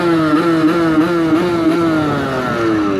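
A motorcycle engine revs and accelerates up close while riding, its harmonic drone rising and falling in repeated waves for about three seconds, loud and steady with no talk.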